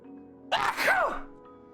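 A single sharp human sneeze, close and loud, rising quickly with a breathy burst and a falling tonal tail, set against a low steady background hum.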